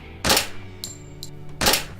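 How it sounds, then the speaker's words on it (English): A pair of loud close gunshot sound effects, with light metallic tinkles of a shell casing hitting the ground in between. "we get a very realistic gunshot effect"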